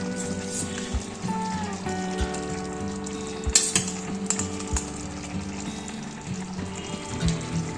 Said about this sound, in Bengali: এবার দিয়ে দিচ্ছি মাংসগুলো।